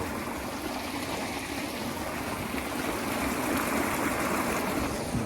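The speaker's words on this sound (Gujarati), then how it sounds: "મિત્રો આપણો બોર ચાલુ, બંબો આવી ગયો છે" Water gushing steadily from a running borewell pump, a dense, constant rushing wash that holds loud and even throughout with no voices.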